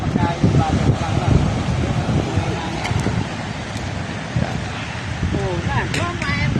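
Strong night surf and gusting wind on a beach at Patar, a heavy low rumble of waves with wind buffeting the microphone, while people talk over it.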